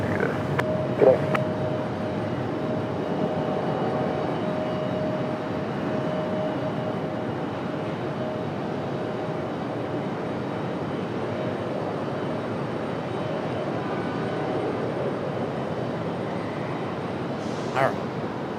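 A Delta Boeing 737 departs Raleigh-Durham bound for Atlanta, its jet engines a continuous, moderately distant roar that holds level, with brief radio-like clicks near the start and end.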